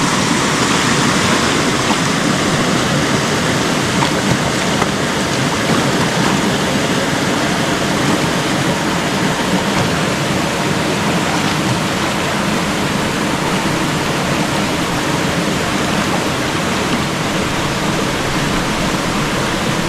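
Loud, continuous rush of flowing spring water at a bathing spot in Tanay, Rizal, steady and broadband throughout, with no voices.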